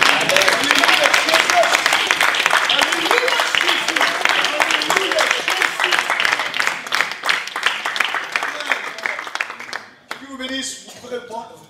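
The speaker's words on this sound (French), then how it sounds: "On peut l'applaudir tous ensemble." A church congregation applauds together at a Sunday anniversary service, dense sustained clapping filling most of the stretch before it thins out and a voice begins speaking near the end.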